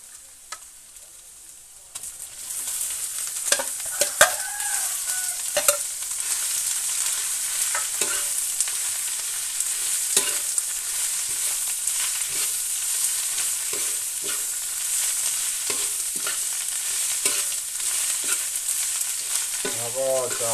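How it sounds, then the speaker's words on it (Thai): Boiled, wrung-out cabbage stir-fries in hot oil with a continuous loud sizzle that starts abruptly and runs on, punctuated by occasional clicks and scrapes of stirring. "แล้วก็เอามาผัดน้ำมันก็จะมีรสชาติหอมอร่อยนะครับ"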